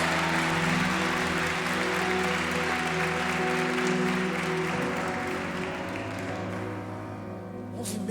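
Church congregation in a Brazilian service applauding steadily, a broad wash of clapping over sustained keyboard or organ tones that fades slightly toward the end.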